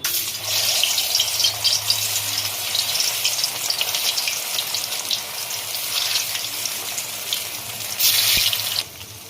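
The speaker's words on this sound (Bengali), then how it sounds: "এক এক করে ভেজে নেব" Round soybean koftas fry in white oil, a loud, dense, steady sizzle and crackle filling the whole stretch close up, with one brief metallic tap near the end and no talk.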